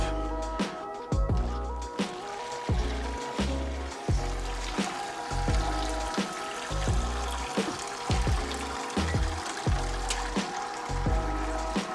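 Wort drains and trickles from a lifted grain bag into the kettle during a home brew of cranberry pale ale, a continuous close splashing flow with rhythmic drips and pulses and no talk.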